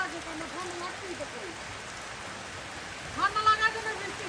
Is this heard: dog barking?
no